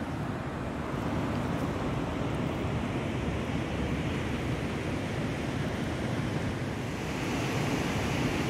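Steady broadband rushing of a flowing river, continuous and fairly loud throughout, with some wind buffeting the microphone.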